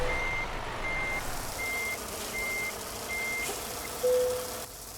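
A truck backs up in American Truck Simulator, its reversing alarm beeping five times at an even pace over a low engine rumble, followed by a brief hiss of air.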